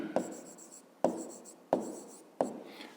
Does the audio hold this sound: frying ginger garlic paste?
no